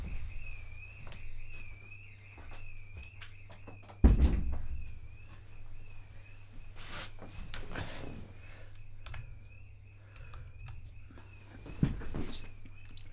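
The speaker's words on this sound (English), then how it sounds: "I will shut the door." A door in a home office is shut with one solid thud partway through, followed by a few soft knocks and footsteps under a faint, wavering alarm tone from next door and a low electrical hum.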